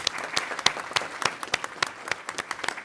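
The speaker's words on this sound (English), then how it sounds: "Let's give them both a round of applause." A small group at a school board meeting claps for a few seconds, the individual hand claps distinct and fairly sparse rather than a dense roar, with a low murmur underneath.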